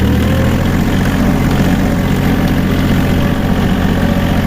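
Loud, steady drone of a Japanese tractor engine under throttle while pulling a plow, a continuous low rumble without pauses.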